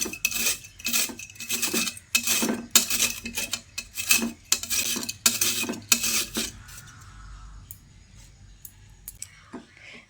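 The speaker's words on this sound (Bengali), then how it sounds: "বড় ফাঁদের গ্রেটার দিয়ে বিট দুটোকে গ্রেট করে নেব।" Two beetroots being grated on a coarse grater, a rhythmic run of rasping strokes, close and fairly loud, then stopping, leaving faint scattered clicks and handling noise.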